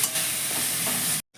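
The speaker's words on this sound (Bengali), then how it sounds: "খুব সুন্দর লাল লাল করে ভাজা হয়ে গেছে।" Onion and garlic fry in a pan until reddish-brown, giving a steady, close sizzle with some stirring. The sound cuts off abruptly at the end.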